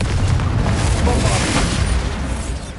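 A Confringo blasting spell exploding in the Hogwarts Legacy video game, a loud, heavy, rumbling boom that fills the whole moment and fades slightly toward the end.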